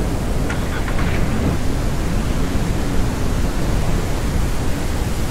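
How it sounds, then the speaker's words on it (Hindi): Heavy rain pours in the farming game Ranch Simulator as a steady, dense roar of broadband hiss, with faint thunder rumbling beneath. "और बारिश तो जो है काफ़ी ज़्यादा तेज शुरू हो गई है एकदम से"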